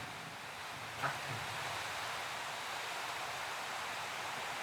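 Heavy rain pours down in a steady, even hiss of broadband noise, with one small thump near the start and no voices.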